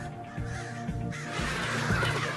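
Crows cawing on a university campus, several harsh calls rising over a steady outdoor wash of ambient noise at moderate distance, with no talking.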